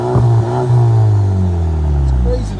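A 2018 Audi A3 S-Line 2.0L turbo with straight-pipe exhaust revs, a low loud engine drone rising in pitch and then falling away, close by, with a voice talking over it.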